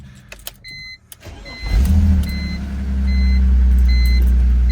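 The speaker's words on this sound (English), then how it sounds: "maybe we just do a quick little startup and see what it sounds like" A few clicks and electronic chimes, then a fully cold E31 BMW 850i V12 engine cranks and catches, settling into a steady, loud low rumble at idle.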